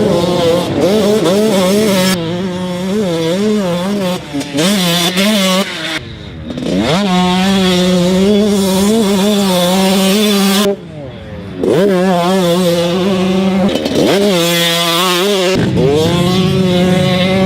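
A loud KTM 112 cc supermini dirt bike stroker engine revs repeatedly, pitch climbing and dropping in waves, with brief pauses between bursts of throttle.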